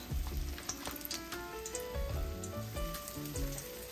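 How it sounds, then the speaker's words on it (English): Spoonfuls of okra fritter batter fry in a hot skillet, giving a steady, close crackling sizzle with scattered pops throughout. "we're going to add the mixture to the skillet by spoonfuls and let it fry"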